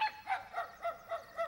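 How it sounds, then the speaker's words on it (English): A dog gives about six quick, yappy barks in a steady rhythm, moderately faint and somewhat distant, with no talking over it. "That's another dog."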